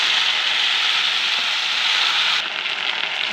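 Tamarind frying in hot oil for a mint chutney, a steady close sizzle that holds loud and even, easing slightly near the end.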